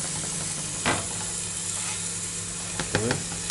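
A steady, soft sizzle of chicken and pork schnitzel frying in sunflower oil runs throughout, with a few faint clicks and spatters close by.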